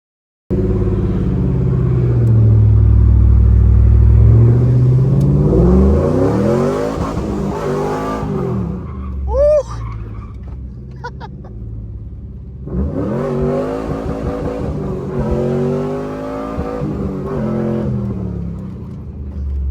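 An Acura TL Type S with new suspension rumbles and revs through a short drive around the block, accelerating in surges with a pause between bursts, heard close from inside the vehicle.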